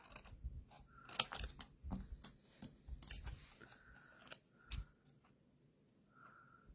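Scissors snip through a paper craft piece in a run of short crisp cuts, close and quiet, with brief pauses between them and no voices.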